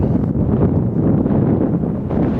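Strong wind in Death Valley buffets the microphone in a constant loud, low roar with gusty rumbling and no other sounds.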